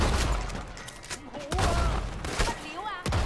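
Sawed-off shotgun firing normal rounds in Red Dead Redemption 2, heard in first person: several loud, sharp blasts spaced a second or so apart, each with a booming tail, over game music and ambience.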